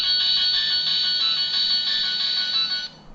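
A bright, high-pitched alarm ringtone from a Calme C107 mobile phone chimes in a steady repeating pattern, loud and close, before cutting off abruptly.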